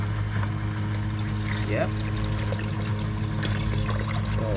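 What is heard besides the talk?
pump flushing water through a tankless water heater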